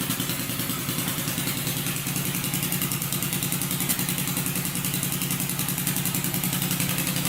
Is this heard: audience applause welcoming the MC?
no